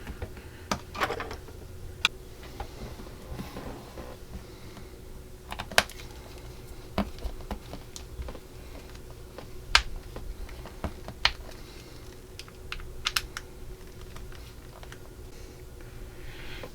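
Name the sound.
screws being driven into model jeep wheel halves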